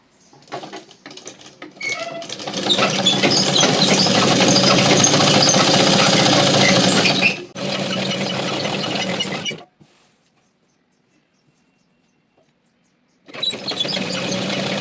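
A simple sewing machine stitches a picot-style fall edge onto a saree: a loud, even mechanical whir in two long runs separated by a brief pause, then silence, then the motor starting up again near the end.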